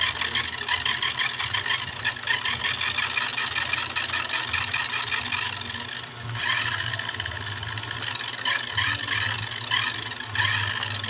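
A Tamiya toy car's small electric motor runs steadily with a dense, buzzing whir that holds at a constant pitch throughout, close by and fairly loud, with a brief dip near the middle.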